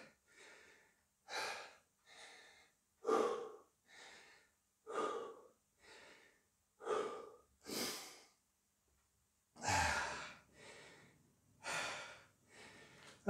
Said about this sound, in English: Just catch your breath.